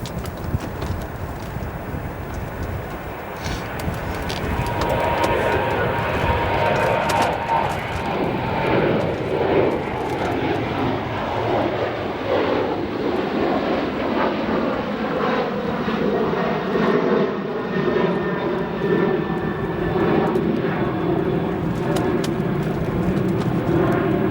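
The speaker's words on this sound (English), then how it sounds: "Lufthansa is just a couple hundred feet above the ground" A Lufthansa airliner comes in to land at Chicago O'Hare, its engine roar building and holding loud and near as it passes low overhead, with shifting tonal whine.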